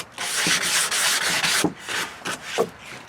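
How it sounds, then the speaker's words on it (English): A wooden dog bed frame is sanded by hand with repeated close, scratchy rubbing strokes in a steady back-and-forth rhythm, with no voices. "before we take it inside, we'll sand it down a bit."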